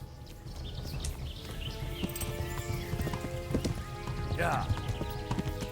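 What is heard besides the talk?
horse galloping and neighing in video game Kingdom Come: Deliverance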